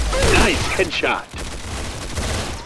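Rapid gunfire in a shooter video game, a dense burst of shots over the first second followed by continued rumbling fire, with a voice talking over it.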